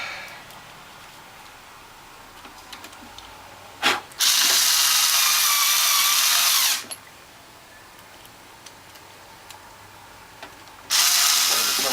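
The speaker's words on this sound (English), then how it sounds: "And a couple more screws. Where's that screwdriver?" A power screwdriver drives screws into a Norwalk juicer base plate, whirring in two loud sustained bursts of a few seconds each, with a sharp click before the first and quiet handling between them.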